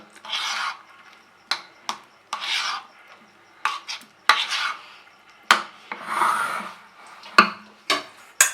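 Chicken keema is mixed with a pinch of salt in a bowl, heard as close, repeated scraping and rubbing strokes with short pauses between them and occasional utensil taps.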